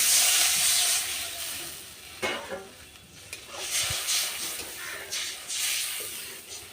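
Water poured onto spices frying in a pan hisses and sizzles, with bursts of steamy crackle and stirring scrapes rising and fading over several seconds, fairly faint and without talk.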